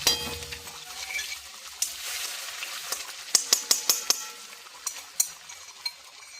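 Cumin with ginger-garlic and chilli paste frying in a pan, a soft steady sizzle broken by a run of sharp clinks and taps from stirring.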